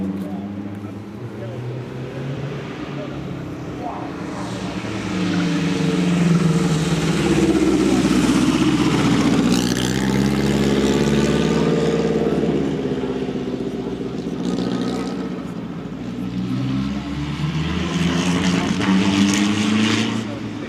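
The blue and white Offenhauser-powered Curtis Craft Midget race car number 33 makes a demonstration run, its engine droning and rising in pitch as it passes, while an announcer talks over the sound throughout.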